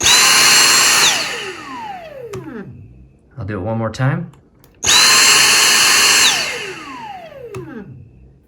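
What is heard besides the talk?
Dyson cordless vacuum cleaner running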